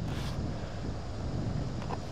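Breezy wind buffets the microphone on the back nine of a links golf course, a steady low rumble filling the short moment with no talk.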